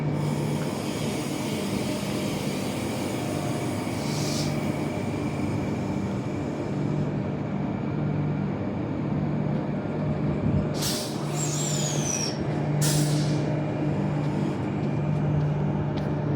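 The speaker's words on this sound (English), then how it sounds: "This train's ready to go." A train pulls away from Midland Station on its last day of operations, with a steady engine drone and rumble and sharp hissing bursts of air brakes released near the start and again toward the end.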